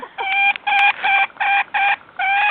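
Backyard chickens being hand fed by an adult and a child, giving a run of close, clear clucking calls in short repeated bursts with brief gaps, fairly loud and with no talk over them.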